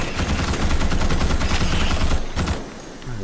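Rapid automatic gunfire from the Starship Troopers: Extermination video game, a dense, loud stream of close shots that rattles continuously, then trails off into a quieter tail.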